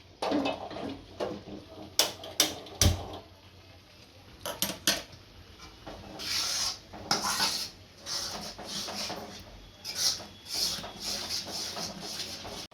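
A metal spoon stirs sugar and water in a pot on a gas stove, scraping and clinking in irregular bursts of sharp strikes against the pan, close and fairly loud.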